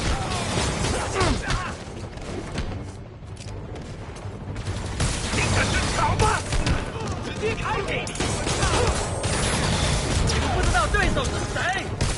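Heavy gunfire and crashing blasts rain on an armored personnel carrier in a Spider-Man video game, a loud, dense barrage of shots and booms running throughout, briefly thinning midway, with voices talking over the battle.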